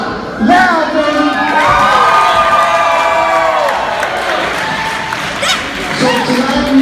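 A wrestling-show crowd roars and yells for Vinny Spano, a loud, sustained wall of cheering voices and whoops that swells, dips slightly and surges again near the end.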